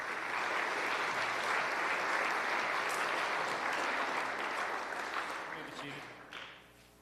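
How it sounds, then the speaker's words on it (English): A school awards ceremony crowd gives a round of applause for single-sport athletes, thick, even clapping that holds strong, then fades toward the close with a few voices surfacing. "Let's give a round of applause for our single sport athletes"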